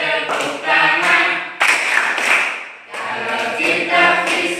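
A class clapping hands in a physics lesson, bursts of loud rhythmic claps in three groups with brief pauses between them, probably mixed with chanting voices.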